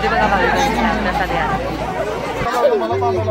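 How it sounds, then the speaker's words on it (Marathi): A dense crowd babbles at the Kalubai temple fair in Mandhar, close, loud chatter from many voices overlapping continuously, with nearby speech standing out. "गर्दी बघा"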